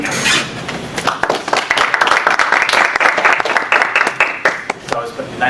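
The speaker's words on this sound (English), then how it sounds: "Nice to get a round of applause before you say anything" Audience applause fills a conference hall right after a speaker is introduced, a dense steady wash of many hands clapping for several seconds, fairly loud and close.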